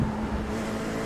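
LMP3 prototype race car in a racing video game, endurance race setting, its engine producing a steady, continuous drone with a low, torquey hum, close and unbroken for about a second.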